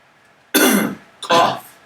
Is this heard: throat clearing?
yes